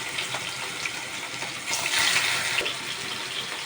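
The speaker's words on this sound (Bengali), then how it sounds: "তেল গরম হয়ে গেছে, মাছটা দিয়ে দেবো" Salted, turmeric-rubbed fish sizzles in hot oil in a kadai, a continuous hissing crackle at moderate volume that swells briefly midway, with no talking.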